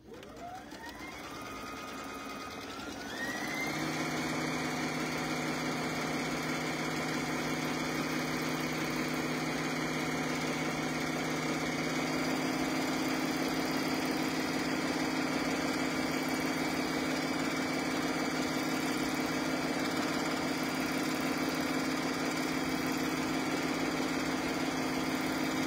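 A sewing machine doing free motion quilting, turned low, starts up with a rising whir and then settles into a steady, close, continuous motor hum with rapid stitching, no voices over it.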